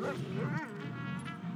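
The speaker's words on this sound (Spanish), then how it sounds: "No te montes a la otra perra, Chop" The dog Chop in the video game GTA V yips and barks in a couple of short, whimpering bursts at moderate level over game background sound.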